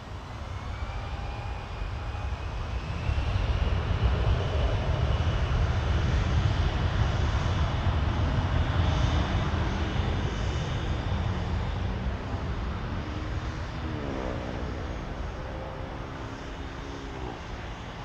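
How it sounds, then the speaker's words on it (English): Heavy jet airliners take off at Toronto Pearson Airport, including an Air Transat A330-200 bound for Lisbon. A loud, sustained engine roar swells and holds steady, with a rising whine layered over it and no talk. "I'll let the few heavies left in the lineup take off before we end."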